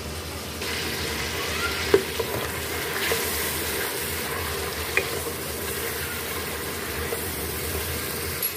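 Tomatoes with garlic and ginger fry and are stirred in a pan, giving a steady close sizzle broken by a few spoon scrapes and light clinks, with no talking.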